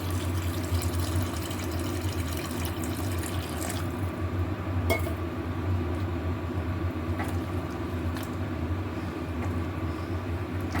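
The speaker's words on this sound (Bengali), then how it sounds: "এবার আমি পরিমাণ মতন জল দেব।" Water runs steadily into a cooking pot of simmered sweet corn and potato curry, a continuous close splashing flow with a few faint clinks, no talking.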